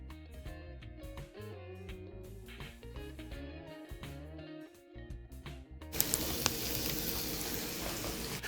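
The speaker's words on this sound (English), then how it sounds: "I'd like to get this garlic and butter cooking all the way through until it's time to put in my main dish" Garlic and butter cook in a pan for fried rice, a bright sizzle rising over the last few seconds after a stretch of background music.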